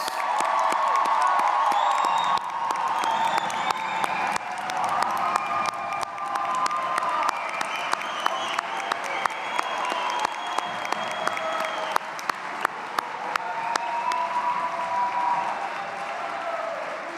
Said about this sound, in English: Let's give the class of 2023 another round of applause.